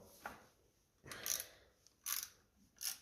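A half-inch socket ratchet works on a 1955 Ferguson 20 TED TVO tractor's front axle, giving three quiet, close bursts of quick clicking separated by short pauses.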